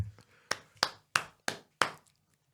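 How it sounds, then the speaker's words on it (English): A short round of applause in a podcast studio: five slow, evenly spaced handclaps, crisp and close, with brief silences between them. "First of all, nice little applause."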